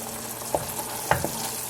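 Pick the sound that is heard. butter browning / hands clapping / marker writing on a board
butter browning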